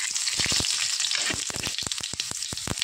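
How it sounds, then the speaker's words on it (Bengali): Whole cumin seeds and two dried red chilies crackle and sizzle in hot oil, a steady close hiss broken by sharp popping bursts throughout, with no talking. "তেল ভালো মতো গরম হয়ে গেছে, দিয়ে দেবো গোটা জিরে আর দুটো শুকনো লঙ্কা"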